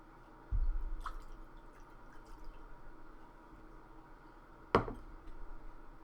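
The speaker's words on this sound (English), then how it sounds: "So I'm just going to put 1 ounce in my jigger." Bulleit rye whiskey runs in a soft, faint trickle into a metal jigger, with two duller knocks as the bottle and jigger are handled, close and quiet with no talk.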